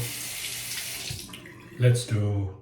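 Tap water runs into a sink for washing up after shaving with a Supply SE razor, a steady close hiss with splashes toward the end as someone speaks over it.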